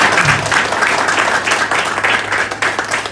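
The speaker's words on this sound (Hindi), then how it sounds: "तो आपको आपके जवानी की कसम कर जोरदार तालियां बजानी है।" Loud clapping from an audience at a network marketing talk, a dense, steady patter of many hands lasting the whole stretch, close and continuous.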